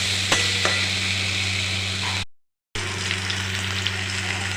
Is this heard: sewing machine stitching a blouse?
no